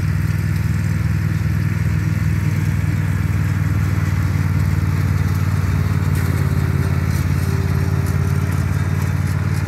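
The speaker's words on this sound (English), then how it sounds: "I'm using the petrol mower." A petrol lawn mower cutting grass in a cottage garden, its engine running loud and steady close by with a constant throbbing drone for the whole stretch.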